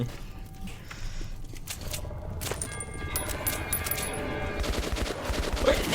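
Gunfire in Metro 2033 Redux, scattered sharp shots and metallic clinks over a noisy game background, with bursts growing denser toward the end, no talking.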